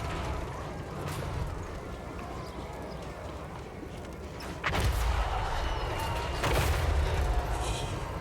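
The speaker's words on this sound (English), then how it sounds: "I'm gonna use my hell cannons to get things started, going after their great cannon" Hell cannons and artillery firing in a Total War Warhammer 3 battle, heard as deep booming blasts over a continuous rumble of combat, with a heavy volley about midway and another shortly after, while a person talks.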